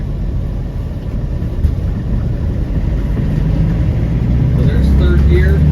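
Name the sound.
1997 Land Rover Defender 90 300Tdi accelerating in third gear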